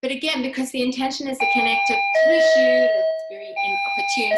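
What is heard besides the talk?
doorbell ringing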